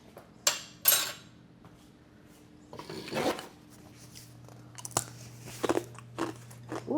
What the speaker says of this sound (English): I hear the crispy chip